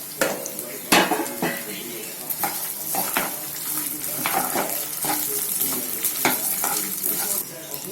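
Pearl millet frying with spices in a pan on the stove: a constant sizzle under repeated sharp scrapes and clanks of a spoon stirring against the metal, close and fairly loud.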